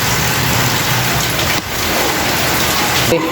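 Steady, dense rain pours down continuously, a loud broadband hiss of drops hitting surfaces with no pauses.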